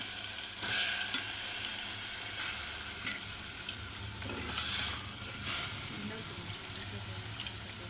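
Mixed vegetables for a vegetable kurma fry in hot oil with tomatoes, giving a low, steady sizzle with a few brief scraping and clinking stir sounds and faint water noise in the background.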